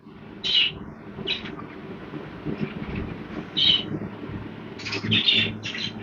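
Jumbo budgerigars chirp in short, sharp bursts while squabbling over food, with several squawks spaced through the scene over a steady low rumble.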